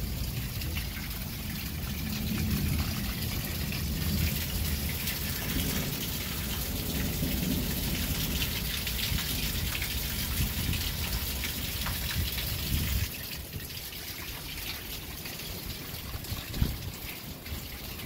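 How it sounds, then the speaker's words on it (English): Steady rain falling on a neighborhood during a spring storm with tornado warnings in Albertville, Alabama, a continuous close patter and drip with low rumbling underneath. "Got a little bit of rain going on."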